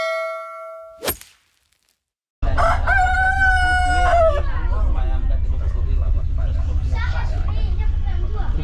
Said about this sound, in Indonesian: Mana tuh ayam bekokok melulu lagi.